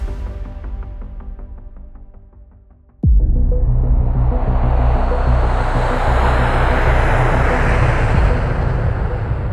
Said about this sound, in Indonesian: pesawat Garuda Indonesia dengan nomor penerbangan GA974 yang ditumpangi Munir take off dari Bandara Soekarno-Hatta